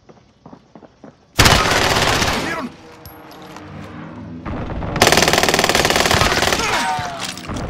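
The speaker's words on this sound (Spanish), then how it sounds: "¡Me disparan!" Automatic gunfire bursts from the video game Call of Duty Warzone, two long loud sustained volleys separated by a quieter stretch with scattered shots and background game sounds.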